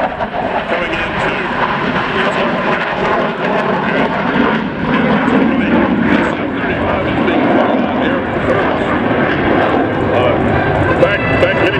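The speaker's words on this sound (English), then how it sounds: "this is the future of the United States Air Force. This is the F-35." A Lockheed Martin F-35A Lightning II jet flies a demo at the Selfridge airshow, its engine roar broad and steady for the whole stretch, loud and continuous, with crowd noise and an announcer's voice mixed underneath.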